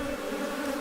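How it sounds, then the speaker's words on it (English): Worker bees buzz steadily at an open hive in Madagascar, a close, even, droning hum with no breaks and no voices. "You can see the worker bees going in and out of the comb, cleaning,"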